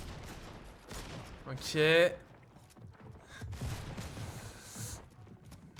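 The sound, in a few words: gunfire in a shooter video game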